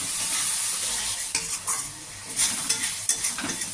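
Spice paste with Kashmiri chilli and green chilli paste for a fish curry fries loudly in oil in a pan, with a steady sizzle broken by repeated scraping strokes of a spoon stirring it close up.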